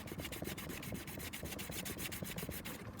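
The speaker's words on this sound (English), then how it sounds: "Right, so this is 800 grit sandpaper." A small metal lock pick being sanded by hand on 800 grit sandpaper, a close, quick rhythmic rasp of back-and-forth strokes repeating steadily and evenly throughout, with no talk.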